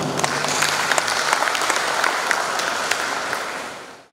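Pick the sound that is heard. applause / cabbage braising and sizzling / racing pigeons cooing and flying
applause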